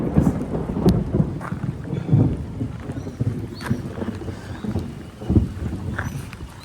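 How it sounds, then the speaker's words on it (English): Heavy rain falls in a thunderstorm, with low rumbling thunder and gusts buffeting the microphone, loud and continuous with no one speaking. "So for now it's raining a lot."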